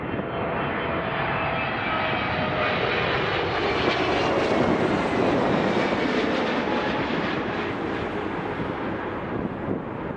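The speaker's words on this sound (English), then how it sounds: "we got a 777-300 landing right over us" An Air Canada Boeing 777-300 arriving from Vancouver lands right overhead at Toronto Pearson airport. Its loud, continuous jet roar swells toward the middle and then eases slightly, with some wind rumble mixed in and no talking.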